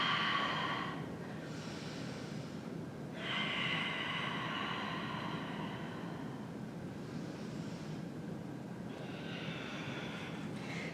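Slow, deep breathing in and out, with long airy inhales and exhales that rise and fall in a steady rhythm, close and fairly quiet, with no talking.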